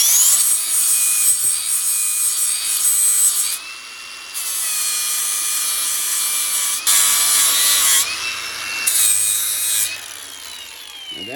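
A grinder works the notches out of a mower blade with a continuous high, hissing grind that shifts in pitch and loudness as the blade is pressed and eased off, close by with no talk.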